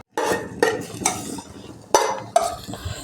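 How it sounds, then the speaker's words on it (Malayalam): A utensil stirs a thick mixture in a metal pan, giving a few distinct scrapes and clinks spaced apart, close and fairly loud with no talking. "ഒരുപാട് നേരം ഇളക്കണം."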